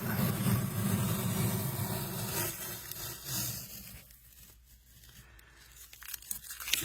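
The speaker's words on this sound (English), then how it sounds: "So we are going to peel the tape off and see where we're at" Adhesive tape tears and crackles continuously as it is peeled off the body of an acoustic guitar under crack repair, then the sound thins to faint handling noises.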